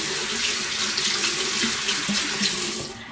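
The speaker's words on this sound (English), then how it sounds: "add a little bit of water." Tap water running into a sink during a skincare routine, a steady splashing stream close by that carries on evenly and then eases off at the very end; no one speaks over it.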